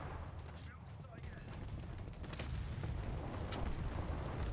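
Naval combat video game battle with repeated gunfire and artillery booms rolling continuously, dense and layered, building slightly louder toward the end.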